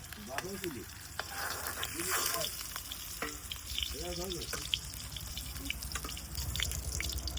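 Khoira hilsa fish fry in hot oil, a dense, steady sizzle running throughout, dotted with soft crackles and a few brief wavering tonal chirps in the background.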